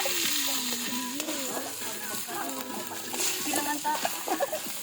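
Ground meat and onions fry in a pan at home, a continuous crackling sizzle with occasional stirring scrapes, heard close and fairly soft under a voice or two.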